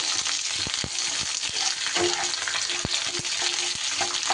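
Dried red chillies and curry leaves sizzle in hot oil in a pan, a loud continuous frying hiss with scattered pops and crackles and occasional stirring taps, no voices.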